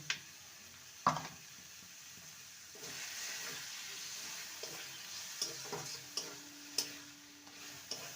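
A steamed bottle gourd dish finished with raw mustard oil is stirred in a pan, with a soft continuous sizzle under a series of spoon scrapes and taps against the pan, close and quiet, no talking.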